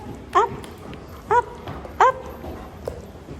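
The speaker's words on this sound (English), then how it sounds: "They're very smart doggy." Small pet dogs indoors give three short, high yips or barks spaced about a second apart, close by, over faint room noise.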